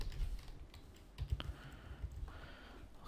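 Code being typed on a computer keyboard, a run of close, quiet key clicks in an irregular rhythm, with a few sharper taps standing out.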